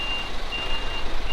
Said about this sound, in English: trying to back a lorry out of a very, very narrow lane